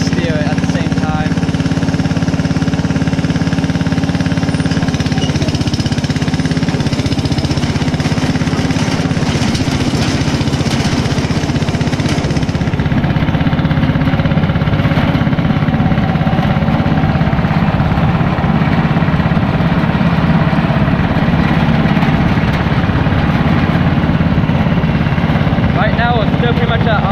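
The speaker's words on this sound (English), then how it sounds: "Pretty much at idle in 6th gear, maybe going around 15 miles per hour." A homemade party bus engine idles in sixth gear while rolling at about 15 mph, giving a steady, loud, rumbling drone that continues unbroken throughout.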